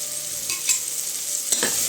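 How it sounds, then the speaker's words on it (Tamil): Green chillies and mint being stirred and sautéed in a pan for Ramadan nonbu kanji, a soft steady sizzle with a few brief scraping stirs, close and alone. "அதையும் போட்டு நல்லா வதக்கிறேன்"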